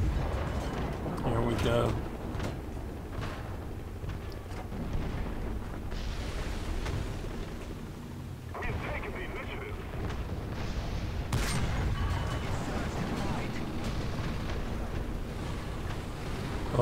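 Panzer III medium tank cannon shots in War Thunder, a few heavy booming blasts amid continuous engine rumble and battle noise, with someone talking over the action.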